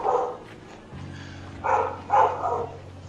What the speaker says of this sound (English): And now there is another dog barking again.